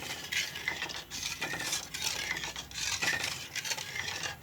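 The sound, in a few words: stirring egg and carrot halwa in a pan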